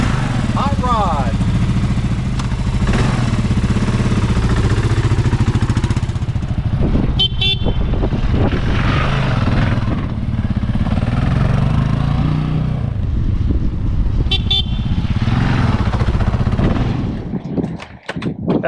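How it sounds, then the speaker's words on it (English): Kawasaki KLR 650 S, the lowered version of the motorcycle, with its engine running loud and close, a rumbling single-cylinder drone with revving swells and a few sharp pops, under a person talking. "This is a Kawasaki KLR 650 S. S is the lowered version."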